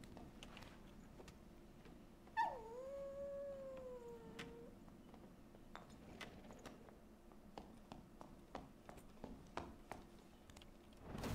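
A dog in the dungeon game Dark and Darker lets out a rising, drawn-out howl that bends and trails into a whine, heard once against low game ambience and scattered clicks and footsteps.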